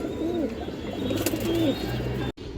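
A single black Musoldom hen pigeon coos in a few soft, rolling phrases up close, with a steady low hum beneath and a brief dropout near the end.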